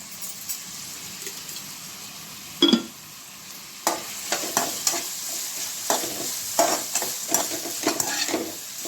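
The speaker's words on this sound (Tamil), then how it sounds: "இதை இப்போ மிக்ஸ் பண்ணி நல்லா இதை வதங்க விடுங்க" Vegetables sautéing for a home-style prawn curry sizzle steadily in a pan while a spoon stirs them in scraping strokes, close and moderately quiet, with one sharper clatter early on.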